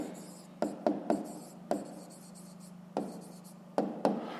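Pen writing on paper during a fifth-grade maths exercise, a soft continuous scratch broken by a handful of sharper strokes and taps, close and clear with no talking.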